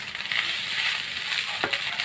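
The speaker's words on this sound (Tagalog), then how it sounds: "Kailangan haliin ng maigi para even yung kanyang pagkakaluto pare-pareho." Fried rice cooks in a pan for breakfast, a steady bright sizzle running throughout. A utensil stirs it, and one brief scrape cuts through near the end. Nobody speaks.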